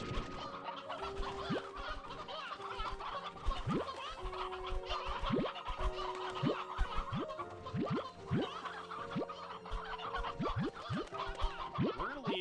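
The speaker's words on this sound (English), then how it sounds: "There's so many chickens." Chickens clucking and squawking in short overlapping calls around a ranch in a video game, a dense steady flock chorus with sharp rising cries scattered throughout, moderately loud against a busy background.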